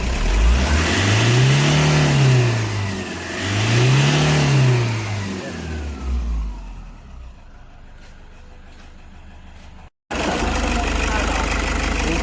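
A Toyota Hiace Commuter van engine running, revving up twice in smooth swells before settling toward a steady idle, loud and close, with a brief cutout near the end.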